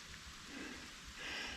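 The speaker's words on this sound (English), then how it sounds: "It's raining." Rain patters steadily in a soft, hissing wash, swelling slightly louder toward the end, with no voices heard.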